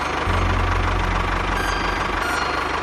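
Tractor engine running steadily at close range near a river while crossing a small homemade concrete bridge, a low idling rumble with knocking pulses throughout.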